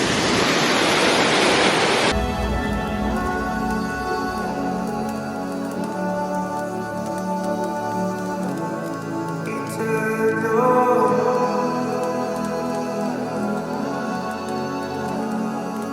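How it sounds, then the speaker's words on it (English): Rushing water at Bigar Waterfall in Romania, a loud, close, broadband roar for the first couple of seconds, after which it drops away beneath quieter, steadier tonal sounds. "So yeah, definitely beautiful waterfall."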